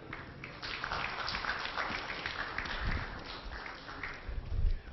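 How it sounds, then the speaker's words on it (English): Audience applause at a panel discussion on doubling farm income, welcoming an agriculture professor to the stage; a steady, dense wash of clapping from a crowd in a hall, moderately loud throughout with no talk. "give a round of applause in welcoming Dr. Ashok Gulati"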